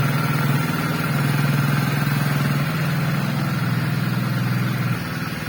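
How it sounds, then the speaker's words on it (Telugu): A 2024 Hero Splendor Plus motorcycle in E20 model idles steadily close by, its engine giving a low, even putter that drops slightly near the end. "సో బండిని ఒకసారి స్టార్ట్ చేస్తాను, దీని సౌండ్ కూడా వినండి"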